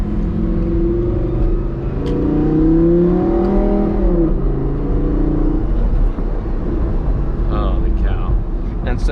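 A modded Audi R8 V10 with a loud exhaust accelerates, its engine note climbing and then settling into a steady, close drone.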